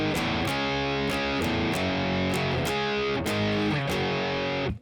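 A heavily distorted electric guitar plays the first main riff of a song, loud and close, with chugging chords and rhythmic stops that repeat across the phrase before cutting off.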